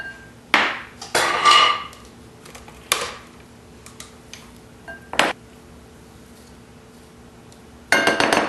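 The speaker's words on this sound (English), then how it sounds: "I'm going to take it out of there and stick it in this bowl just so I can give it a last mix." A raw dessert mixture being moved from a food processor into a bowl in a kitchen: scattered clinks and scrapes of utensils and dishes, a few sharp knocks, then a long quiet gap before a final clatter.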